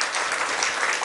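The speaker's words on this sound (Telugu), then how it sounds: "చప్పట్లు కొట్టి దేవుని స్తుతిద్దాం." A church congregation claps in dense, steady applause during a Telugu sermon, loud and continuous through the whole moment.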